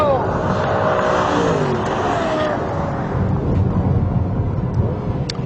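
Lexus LFA engine note during a drag race, a sustained loud roar with rising harmonic sweeps as it revs, joined by other cars, with a voice talking over it.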